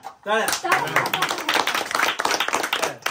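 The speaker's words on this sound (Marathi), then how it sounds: "टाळ्या" Hand clapping at a birthday celebration, brisk and close, mixed in with lively overlapping talk.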